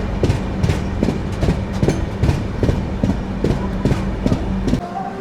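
The 12840 Chennai Central–Howrah Mail superfast express rolls through Annavaram railway station, its wheels beating a loud, steady clickety-clack over the rail joints in close, regular double knocks.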